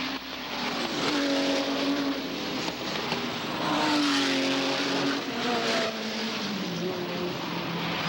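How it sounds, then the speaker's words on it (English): IMSA GT race cars at Mosport in 1982, including a black BMW, roar past with rising and falling engine pitch, several cars overlapping, loud and continuous, with a commentator talking over them. "At corner 10, Deacon's black BMW led his class."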